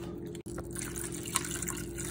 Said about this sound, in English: adding one cup of water to it.